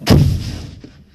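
A single loud, sharp boom from a live grenade detonating, followed by a rumbling decay that fades out within about a second.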